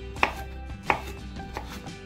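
Knife slicing trimmed, halved and cored zucchini diagonally on a cutting board: two sharp, close cuts with a few softer knocks between them, with no talk.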